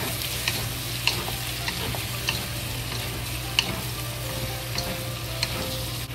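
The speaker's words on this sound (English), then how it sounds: "when the liquid in the chicken is gone, we slow fry a little while" Chicken pieces with soy sauce stir-frying for a home-style chicken stew with potatoes, celery and carrots: a steady close sizzle with periodic light scrapes and taps of a spatula, no voices.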